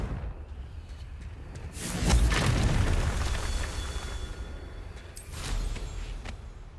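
Confringo blasting spell detonating in a Harry Potter video game, a loud booming burst that swells and rumbles for a few seconds, then a second, smaller blast near the end, with no talking.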